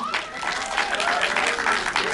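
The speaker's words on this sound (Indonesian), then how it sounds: "dulu tepuk tangan untuk Morgan" Applause from a crowd for a cast member at an Indonesian film press event, steady dense clapping that is loud and close and runs the whole time, with a host's voice over it.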